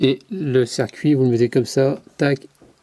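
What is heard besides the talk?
No everyday noise stands out behind the speech.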